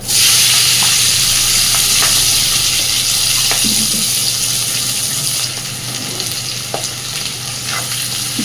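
Chopped onion and slit green chillies frying in ghee with whole cardamom, cloves, cinnamon and black pepper for chicken keema, a loud steady sizzle close by with occasional stirring knocks and the hiss easing slightly midway.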